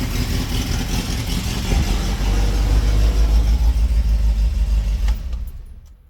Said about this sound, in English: That is a running and mostly driving, maybe not stopping, but 1966 AMC Marlin.